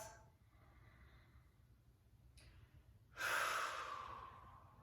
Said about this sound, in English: Couple of nice deep breaths.